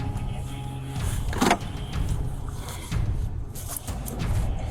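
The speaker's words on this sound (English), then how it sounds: "Gonna roll up the windows." A patrol car's power windows whir steadily up at night over a constant engine and road rumble, with a faint clunk partway through.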